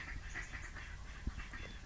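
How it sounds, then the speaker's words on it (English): Ducks quack faintly in the distance, a soft scattering of calls set back against a quiet outdoor background. "Can anyone hear the ducks?"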